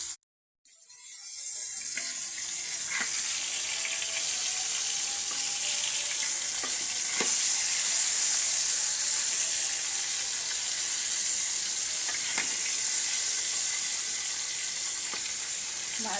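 Rohu fish fry in oil with a bright, steady sizzle that starts after a brief silence and runs on throughout, broken now and then by soft clicks and taps.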